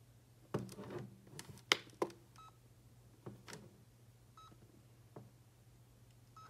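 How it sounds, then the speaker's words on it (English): Faint, short electronic beeps from a UVC sanitizer box sound a few times amid soft clicks and handling noises in a quiet room. "what this one does is it blinks and beeps to let you know that it's working right"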